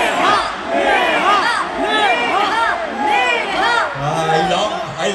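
A large concert crowd at Global Village in Dubai chants a singer's name together in loud, rhythmic repeated bursts, a dense wall of many voices close around the listener.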